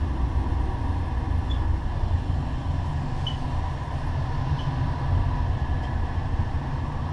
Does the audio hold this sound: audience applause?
no